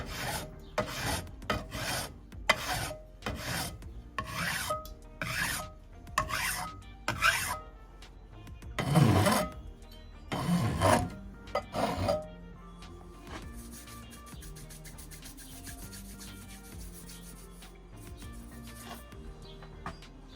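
A file rasps back and forth across metal edges in regular scraping strokes, taking off a burr, then gives way to quieter, lighter rubbing toward the end as the edges are softened.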